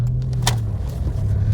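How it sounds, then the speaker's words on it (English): A Ford Escort's engine idles with a steady low hum, joined by a brief rattle or jangle partway through, heard from inside the car with no talking. "Yep, you're sounding quality car."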